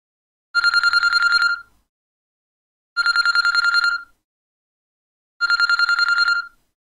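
A telephone rings three times, each burst an electronic trilling ring of about a second followed by a clean pause of silence, loud and close with no voices.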